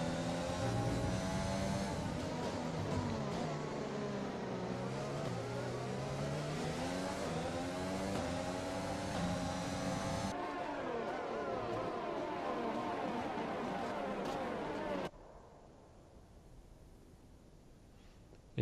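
Formula 1 race cars at a desert circuit scream past under engine noise with sweeping pitch changes, followed by a quieter stretch as the cars move away; loud and continuous.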